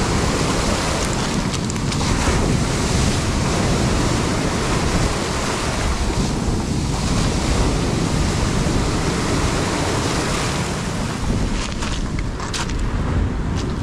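Sea waves wash over a pebble shore in a continuous loud roar and hiss, close by, with no talking.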